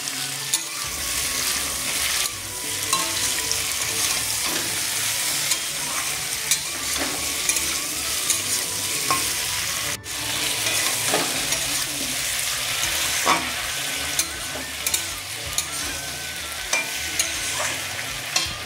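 Slit green chillies and ginger paste fry in hot oil with a loud, continuous sizzle while a spoon stirs and scrapes the pan now and then, for a fish curry with vegetable stalks.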